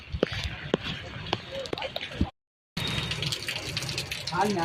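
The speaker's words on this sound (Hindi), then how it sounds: "पूरे शहर में बारिश ही बारिश है।" Rainwater rushes through a city street during a monsoon storm, gushing continuously, loud and close, with a brief dropout midway before the heavy flow resumes.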